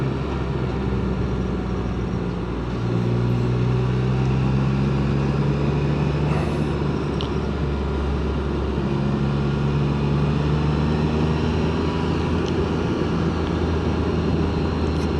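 A 2024 Can-Am Spyder RT Limited three-wheeler touring on a rough road, with a steady engine drone, tonal hum and continuous wind and road rumble throughout, close and loud with no talking.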